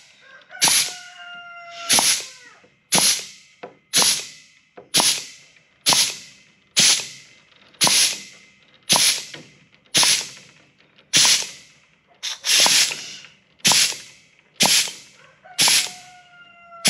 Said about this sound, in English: And what you do is you cut in the middle